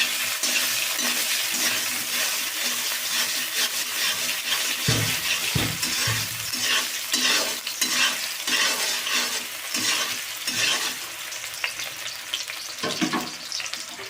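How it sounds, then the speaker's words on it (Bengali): Sweet potato pieces frying in hot mustard oil for a fish sour curry, a steady loud sizzle with repeated stirring scrapes and clatters of a spatula in the pan, no voices. "এবারে আমি তেল গরম হয়ে গেছে রাঙালু রাঙালুটাকে আমি ভালো করে ভেজে নেব কিছুক্ষণ"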